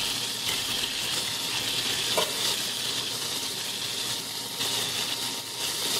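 Veal frying in a pan sizzles with a steady, loud crackle that runs unbroken from start to finish, with no voices over it.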